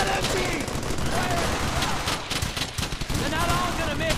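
Enemy machine gun fire in the World War II shooter Brothers in Arms: Hell's Highway, a continuous clatter of automatic bursts and gunshots across a battle din, mixed with shouting voices.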